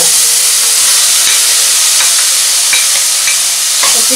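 Onions frying in hot oil with ginger-garlic paste for pav bhaji, a loud, dense, continuous sizzle and hiss with a few faint stirring clicks.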